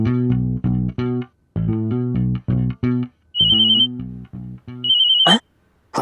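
A phone ringtone plays loudly nearby, a repeating electronic melody in short bursts with a high beeping tone cutting in, and no one speaks.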